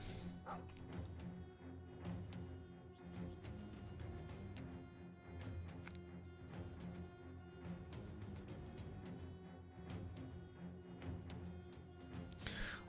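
A dog in the Battle Brothers video game barking and yipping in repeated short bursts over a rhythmic game soundscape with clashing hits, fairly quiet.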